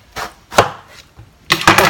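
A knife cuts through a peeled zucchini on a board, with sharp separate chops: two single strikes, then a quick cluster of cuts near the end, close and crisp.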